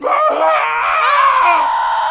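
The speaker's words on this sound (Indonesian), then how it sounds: "kesunyian malam itu dipecahkan oleh teriakan mengerikan warga desa." Villagers screaming in horror at night, a loud chorus of overlapping shrieks and wails that runs unbroken throughout.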